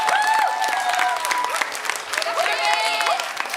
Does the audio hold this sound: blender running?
no